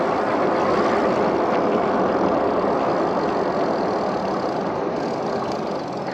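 SUPER73 electric bike motor under full throttle climbing a hill, with an upgraded torque firmware, a loud continuous whine and rushing noise, steady and unbroken, probably mixed with wind across the microphone.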